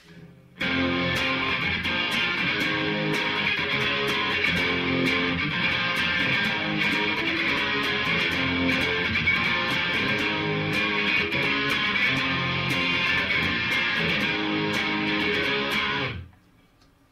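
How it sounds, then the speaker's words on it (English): Continuous overdriven electric guitar playing with a shimmering chorus, steady and loud for about fifteen seconds, then cutting off abruptly. "That sound is a straight drive with a nice little chorus behind it."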